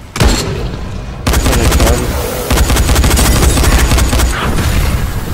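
Repeated shotgun blasts and gunfire in the zombie game Dying Light, loud and dense, with bursts of shots packed closely together and a brief pause near the start, no talk.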